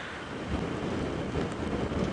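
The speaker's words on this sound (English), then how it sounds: "It is very windy" Strong wind buffets the microphone on an open safari drive, a loud, continuous roaring rush with gusty surges and no voices.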